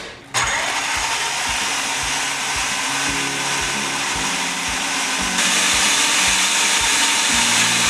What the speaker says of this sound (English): we're first gonna start with putting the cauliflower in the food processor, and then we're gonna blend it up to that rice consistency